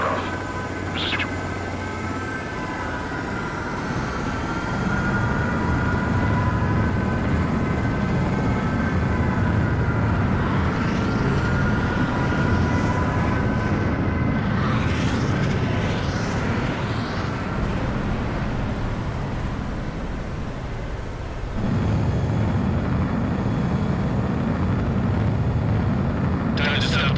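A jet fighter in a combat flight video game spools up for takeoff, a steady roaring engine drone that swells and holds throughout while voices talk over it.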